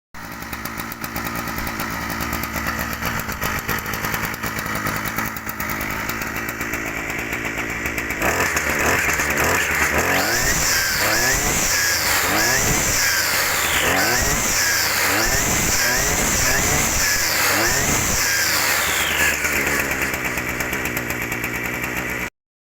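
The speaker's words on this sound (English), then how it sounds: "I've actually got that running, and it's going right the way through the rev range" A small petrol engine, just after its carburetor was cleaned, idles steadily and then revs up and down repeatedly through its range in loud, close, rhythmic surges, heard alone outdoors in a Cornwall garden in spring.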